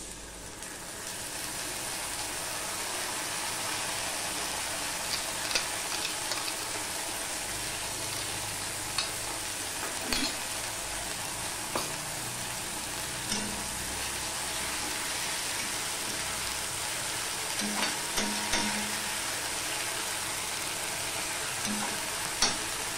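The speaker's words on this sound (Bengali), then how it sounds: "এবারে এই পর্যায়ে আমি এখানে যে বেটে রেখেছি আদা, রসুন আর কাঁচা লঙ্কার পেস্ট, এটা আমি দিয়ে দিচ্ছি।" Ginger, garlic and green chili paste sizzles steadily in hot oil for a Bengali doi chicken, with scattered clinks and scrapes of stirring over a continuous frying hiss.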